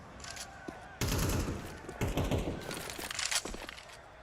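Rapid close gunfire bursts in a Counter-Strike match at a BLAST.tv Austin Major 2025 quarter-final crackle in clustered volleys, with a commentator talking underneath.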